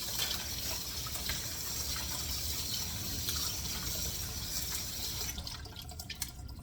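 Running tap water pours steadily over brown rice being rinsed in a pan, a continuous close splashing flow that thins out near the end.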